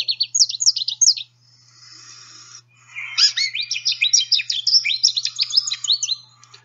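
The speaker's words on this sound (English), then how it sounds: "the goldfinch's song is very complex" American goldfinch song, bright rapid twittering phrases with a brief buzzy note between them, close and clear against a quiet background.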